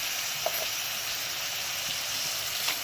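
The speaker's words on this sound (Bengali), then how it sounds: "যখন মশলাগুলো অ্যাড করবে হালকা একটুখানি জল দিয়ে কষাতে থাকবে" Spices frying in a pan with a little water for a beetroot and prawn curry, giving a steady close-up hiss and sizzle with faint occasional clicks of stirring.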